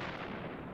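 A tank cannon fires in a video game, a single loud booming blast that fills the whole brief moment with heavy, rumbling force.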